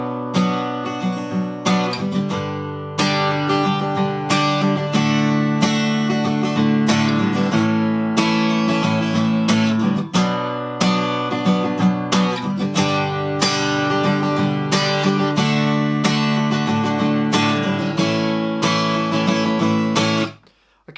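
An acoustic guitar plays a song without a capo, strummed chords ringing steadily and close for about twenty seconds before stopping abruptly, with no voice.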